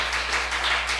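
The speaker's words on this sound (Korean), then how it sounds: "우리 박수 한번 쳐주십시오" A church congregation applauds at a Sunday worship service, a steady wash of many hands clapping at moderate loudness throughout, with no voices over it.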